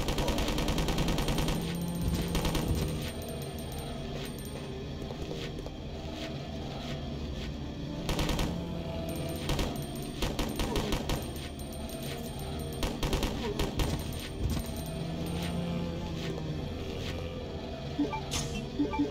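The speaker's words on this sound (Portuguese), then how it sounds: "Um pouco de metranca, dar um tiro aqui, ó." Rapid automatic gunfire from a machine gun in the video game Resident Evil Code Veronica X, loud bursts over a dense layer of game music and effects, with a few heavier shots standing out.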